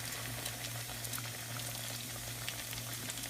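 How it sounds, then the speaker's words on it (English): Steady bubbling and crackling of an empanada frying in hot oil, a continuous close sizzle with small pops throughout. "we're only going to fry it for like a good 4 to 5 minutes"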